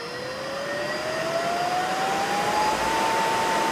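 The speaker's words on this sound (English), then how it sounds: "running that motor at twice the speed" Electric motor on a variable frequency drive running at double its rated speed, giving a steady, loud whine whose pitch climbs slowly throughout, with no one talking.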